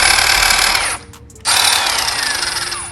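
A Snap-on CT 9080 cordless impact gun hammers loudly and close, a continuous rattling burst that cuts out briefly near the middle before resuming at full force.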